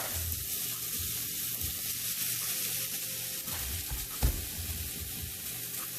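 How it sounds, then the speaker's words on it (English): Zucchini sautés in a pan with a bright, continuous sizzle up close, plus a brief clatter of stirring near the end, no talking. "we're just gonna let that saute a little bit"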